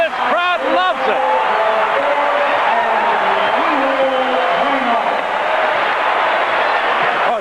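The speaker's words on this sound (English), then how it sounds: "Timeout, and this crowd loves it." Basketball arena crowd roaring steadily during a Louisville timeout in a 1985 Memphis Tigers at Louisville Cardinals game, a broad sustained cheer with a commentator talking over it.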